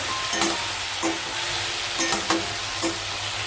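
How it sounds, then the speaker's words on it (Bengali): Okra and potatoes fry in a pan under a constant loud sizzle, with a spatula scraping and stirring through them in several sharp, irregular strokes, close by. "ভেন্ডি দেওয়ার পরে একটু ভালো করে নাড়িয়ে নেব"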